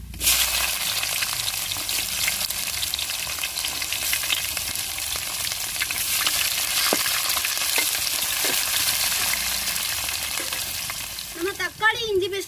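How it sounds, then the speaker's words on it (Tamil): Spices, cinnamon, large onion and green chili frying in hot oil for a home chicken curry, a loud steady broadband sizzle throughout with occasional stirring clinks and a brief voice near the end. "எண்ணெய் சூடாயிருச்சுங்க கறி மசாலா பட்டை பெரிய வெங்காயம் பச்சைக்காயம் போட்டுக்கிறோம்"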